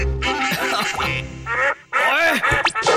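Loud, rapid cartoon duck quacks from Oggy and the Cockroaches overlap in a busy, close flurry, with a brief pause midway before the quacking resumes.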